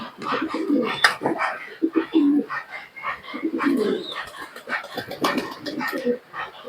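Pigeons coo in low, throaty bursts, several overlapping close by, with faint chirps and rustling around them, kept in during rainy weather.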